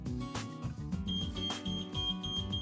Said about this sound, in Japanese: 設定された使用量を超えるとアラームが鳴り